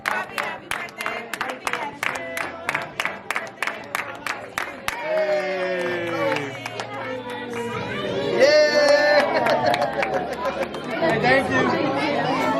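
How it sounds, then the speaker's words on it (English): A restaurant crowd claps in quick steady rhythm to celebrate a birthday, then the applause gives way to lively chatter, cheering and overlapping voices, with people talking throughout. "let's clap for him"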